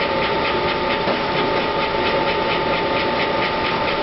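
A KitchenAid stand mixer whips egg yolks in its bowl for a chocolate roulade, making a steady, loud motor whir with a rhythmic churning pulse that runs without a break and with no voices.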